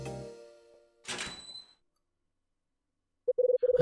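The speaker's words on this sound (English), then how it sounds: "A door opens at the end of the hallway." A door opens at the end of a hallway in the video game Hotel Dusk: Room 215 with a short muffled thunk and rustle. Silence follows, then a quick series of bright electronic dialogue beeps.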